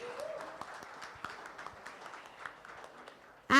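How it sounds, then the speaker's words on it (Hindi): An audience at a film launch and music success party applauds steadily, with dense, continuous clapping at moderate distance that swells into a loud burst at the very end. "Please जोरदार तालियों से इनका स्वागत करें"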